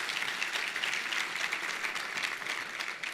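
Steady, even applause from an audience at a university business achievement awards ceremony, sustained at a consistent level throughout without speech.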